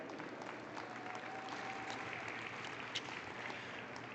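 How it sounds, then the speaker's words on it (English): Audience at a junior wether doe goat show at the National Western Stock Show applauds steadily, a dense wash of clapping from a crowd that holds even throughout with no voices over it. "Give them a big round of applause."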